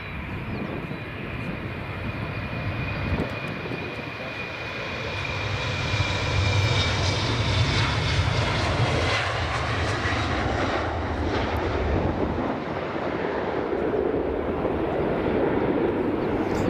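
An airliner taxiing at Edinburgh Airport gives a steady, close engine roar with a high whine, swelling louder about six seconds in and holding there, with no talking.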